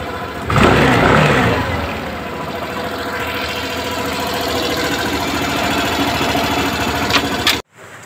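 A Suzuki Burgman scooter's engine, just repaired after an FI error, starts and runs at a steady close idle with a rapid mechanical chatter, then cuts off abruptly near the end.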